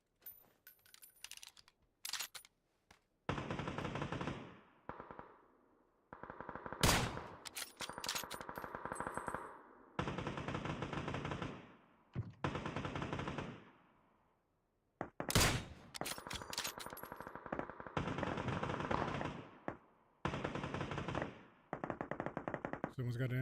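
Bursts of MG3 machine gun fire in PUBG, rapid sustained volleys of a few seconds each separated by short pauses, loud and close, with keyboard clatter at moments.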